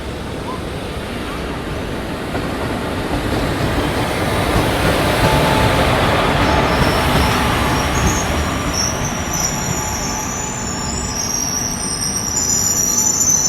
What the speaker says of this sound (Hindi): ये देखो, ये एक पैसेंजर ट्रेन आ रही है